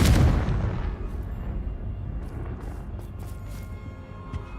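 An explosive Confringo spell goes off in Hogwarts Legacy, a loud booming blast at the start that rolls into a long, rumbling decay of crackling debris and low rumble, with no voices.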